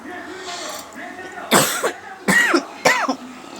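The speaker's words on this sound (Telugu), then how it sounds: "కొంచెం దగ్గు వస్తుంది ఫ్రెండ్స్ నాకు." A person coughs several times at close range, with short harsh bursts separated by brief pauses, while making tomato and tamarind chutney at home.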